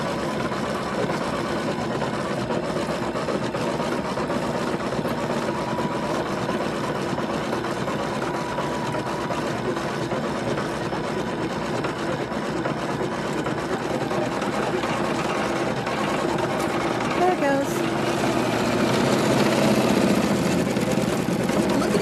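An embroidery machine running placement stitches buzzes with a fast, steady mechanical whir and rapid needle clatter, loud and close, continuing evenly throughout.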